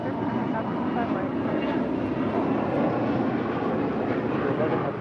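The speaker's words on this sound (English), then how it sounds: "This Global Express is departing to Denver, Colorado." A Bombardier Global Express business jet departing LAX produces a constant, fairly faint engine drone with a broad even roar, and a voice can be made out faintly beneath it.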